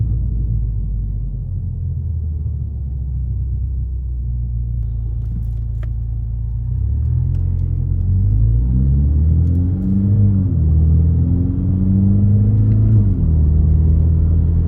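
A 2021 Toyota Supra GR 2.0 drives in sport mode, heard from inside the cabin as a loud steady engine rumble with rising and falling revs as it accelerates and shifts. Nobody speaks.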